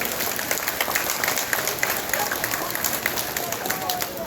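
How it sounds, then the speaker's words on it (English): Audience applause fills an outdoor SeaWorld Orlando orca show stadium, a dense steady roar of clapping with some cheering throughout, fairly loud and continuous. "How about a big round of applause for Trua, Mikhail, and all of our audience v"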